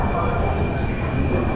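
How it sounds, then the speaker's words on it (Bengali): The Black Diamond Express, a new LHB rake on the Howrah–Dhanbad route, pulls out of Bardhaman station with a loud, steady rumble heard close from inside the coach. "এই হচ্ছে আমাদের বর্ধমান থেকে ছেড়ে দিল ট্রেন"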